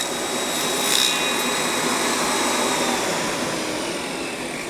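A table saw cuts wood for a mailbox, giving a steady, loud whine of blade and motor that holds evenly throughout with a slight rise near the start.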